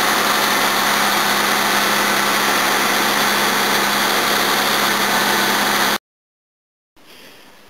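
A V12 engine runs after its radiator and air filter are refitted, a loud steady close-up drone that cuts off abruptly, followed by a moment of silence and then faint background noise.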